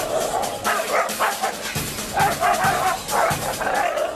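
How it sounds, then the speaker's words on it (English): Dogs on a street in Hong Kong bark and yip in repeated short bursts as another dog approaches, loud and close, with some whimpering between barks. "Cesar pushes him to be a strong leader and walk his pack through the streets of Hong Kong when another dog approaches"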